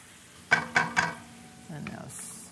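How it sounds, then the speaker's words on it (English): Butter is whisked into a pan sauce off the heat after searing: three quick rhythmic scraping strokes of a whisk against the pan, then a softer stretch with a low voice briefly in the background. "And now whisk in your butter."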